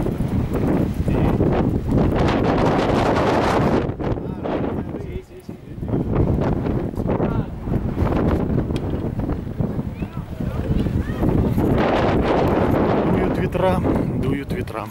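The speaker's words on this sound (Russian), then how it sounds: "Дуют ветра." Strong wind gusting near a volcanic mountain on the Canary Islands in Spain, loud steady roaring buffeting that briefly dips then returns, no talk.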